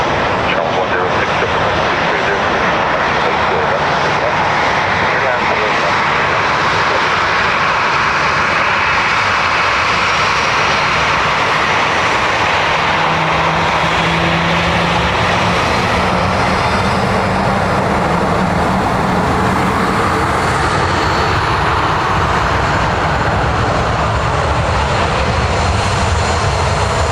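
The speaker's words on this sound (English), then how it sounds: "A330 incoming, I can see it there." An Airbus A330 arriving at Dublin Airport roars in with a loud, continuous jet engine rumble that swells and shifts as it passes close by, with a voice talking over it.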